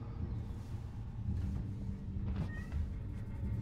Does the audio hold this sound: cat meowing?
yes